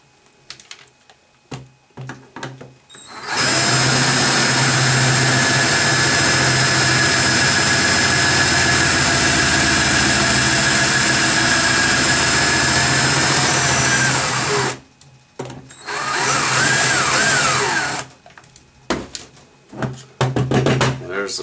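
A part on a Lennox Pulse21 furnace controller board being drilled out, a steady loud high-pitched whine running for about eleven seconds, then a shorter second burst after a brief pause, with quieter handling noises around it.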